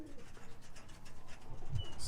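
Roller pigeons in a loft coo softly in low, rolling murmurs against a hushed background, with a brighter rustle near the end.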